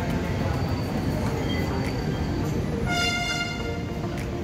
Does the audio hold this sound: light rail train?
yes